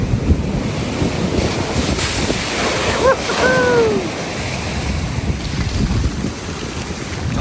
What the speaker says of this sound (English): you're seeing a lot of massive waves slamming into the wall